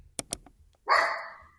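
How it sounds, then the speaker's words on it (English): A dog gives two short, sharp yips followed by a single louder, longer bark close by, with no talking. "A little delay there for the dog to put in their little drum fill."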